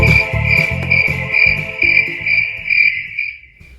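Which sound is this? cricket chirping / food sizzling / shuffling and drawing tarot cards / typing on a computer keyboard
cricket chirping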